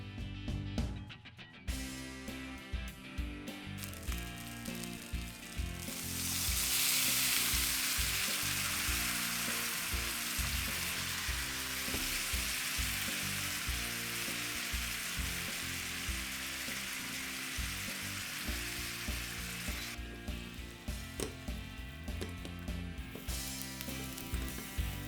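Short rib of beef sizzles loudly in a hot pan, with a strong burst of frying after the liquid is added that holds steady for a long stretch before settling back to a lighter crackle.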